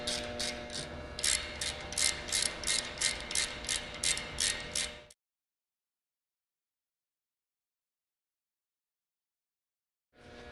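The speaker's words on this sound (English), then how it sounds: "Use an appropriately sized wrench to remove the nuts from the screw." A wrench clicks rhythmically, ratchet-style, while removing a lock nut from the feed screw of a feeder. The sharp, steady clicks run for about five seconds, then the sound stops and silence follows.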